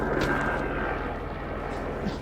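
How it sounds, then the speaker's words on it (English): A helicopter passes overhead at a rifle range, a steady low rotor drone with a faint whine, moderately loud and continuous, with brief bits of background noise and no clear talking. "We got a helicopter overhead."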